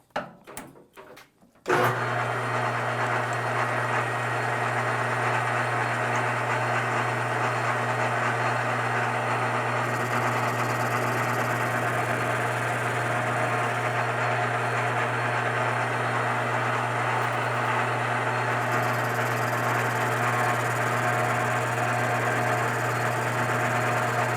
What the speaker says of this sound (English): Okay, speed up the lathe just a little bit.